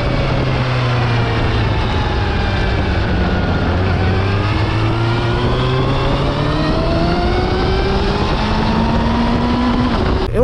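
A 2021 Suzuki Hayabusa motorcycle under way, its engine giving a smooth, continuous whine with rising tones through the gears, loud and close, with wind rush throughout and no talking.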